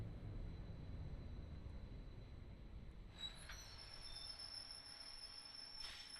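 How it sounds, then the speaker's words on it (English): Subway train in Subway Sim 2 arriving at a BVG station, a faint low rumble that turns midway into high, thin wheel squeal and whine as it brakes, with no talk. "here comes the train"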